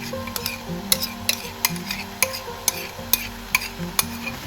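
Calamari yakisoba noodles with sauce and vegetables stir-fry in a pan on high heat, a steady sizzle broken by sharp utensil clicks and scrapes at an uneven rhythm, close and fairly loud with soft background music.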